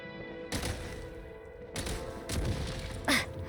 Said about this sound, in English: Shoot the explosives to detonate them and clear the path.